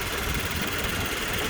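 A 2-litre boxer engine in a 2015 Toyota 86 GTS coupe idles with a steady, even hum, close and continuous through the whole short stretch.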